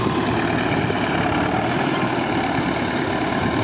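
A homemade tractor's SMD-22 engine idles steadily and loudly, a constant low rumble with no talking.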